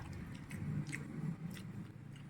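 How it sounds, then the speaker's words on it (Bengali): A vegetarian meal of dal and carrots is eaten close up, with soft crunching bites and moist chewing that stay quiet and steady over a low background murmur. "আগে এটা একটু খাই"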